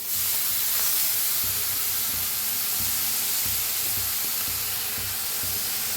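Grated radish going into a hot pan with turmeric, giving a steady, loud hiss and sizzle that runs unbroken, with faint stirring clicks underneath.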